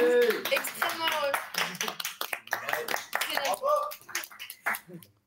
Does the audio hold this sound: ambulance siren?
no